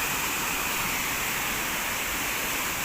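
Huai Pu Ling waterfall near Ban Huai Tong Ko in Mae Hong Son, Thailand, gives a steady, dense hiss of falling water, close and even throughout with no voices.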